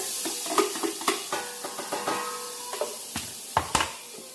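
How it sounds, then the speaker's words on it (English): Chopped onion tumbles into a stew pot and starts sizzling as a spoon scrapes and stirs through it, with a string of close, uneven clatters and scrapes over a steady frying hiss. "we're gonna dump all of the chopped onion into the pot back here"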